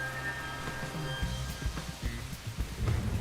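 Steady rain falls in the video game Master Detective Archives: Rain Code, a dense continuous hiss with scattered heavier drops and low rumbling thuds, loud and unbroken.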